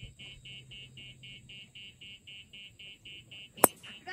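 A golf cart's warning alarm beeps steadily in quick, even pulses, then a sharp click or hit cuts in near the end.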